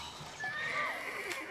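A frightened horse neighs inside a stable, a short high whinny rising and falling over a second, fairly close and heard on its own without talk.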